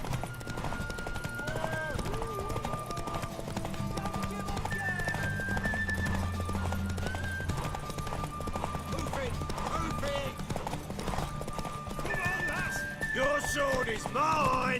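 In The Witcher 3: Wild Hunt, rapid clip-clop of galloping horse hooves continues throughout, with a whinny rising near the middle and music and voices layered underneath.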